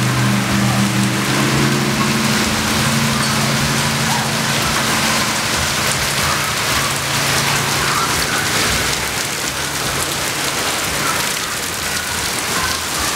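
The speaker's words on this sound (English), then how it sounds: "It is pouring right now" Heavy rain pours down beside a river in Parker, Arizona, during an August thunderstorm, a loud, unbroken hiss of drops on surfaces with a low engine hum fading out early on.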